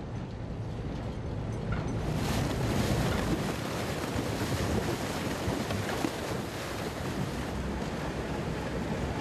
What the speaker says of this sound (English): With a powerful engine and a reinforced hull, the Würmer plows through the ice.